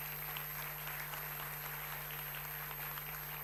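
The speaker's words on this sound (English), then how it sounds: "I think we first clap for the teachers" A hall audience at a school annual day claps for the teachers in steady, even applause that sounds somewhat distant, with a constant electrical hum beneath it.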